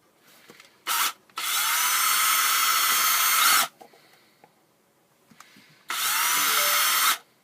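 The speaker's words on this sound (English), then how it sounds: "You can drill little pilot holes and screwed them in." A power drill whirs in bursts while drilling pilot holes in wooden dowels: a short blip, a long run of a few seconds, a pause, then another sustained run.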